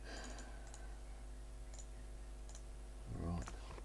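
Computer mouse clicks while modeling a house roof in SketchUp, sounding as a few sparse, sharp taps spread over several seconds against a low steady hum.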